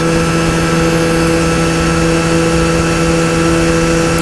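A Zipp Raven Lux 125 scooter engine runs at a steady, constant speed, giving a loud, even drone with a fixed pitch and wind noise throughout, with no talk.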